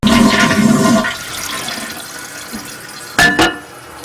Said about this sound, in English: I'm going to flush the toilet just so the fresh water will change again